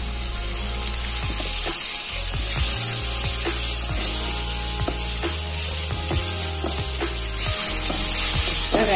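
Chopped shallots fry in hot oil in a pan, a strong, steady, close sizzle with intermittent stirring clicks throughout, heard alone without speech.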